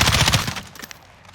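An M13 assault rifle in Call of Duty Warzone fires a rapid burst of about half a second, loud and close, then a quick decaying tail into near silence.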